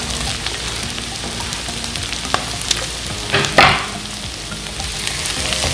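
Green chillies and onions frying in oil for a chicken kurma, a steady close sizzle with scattered crackles and a brief louder stirring burst midway, no talk.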